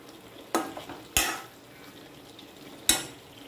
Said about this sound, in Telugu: ఒక పావు కప్పు శనగపప్పు, ఒక పావు కప్పు మినపప్పు, మనకు కావాల్సినంత కారం వేసి వేయించుకోవాలి.